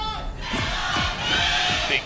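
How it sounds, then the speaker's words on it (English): A crowd cheers loudly at a League of Legends esports match in the LCK 2016 Spring Promotion, a dense swelling roar of many voices that fills the whole moment, with a commentator's voice rising over it. "Big cheer for SBE's Sonic Boom."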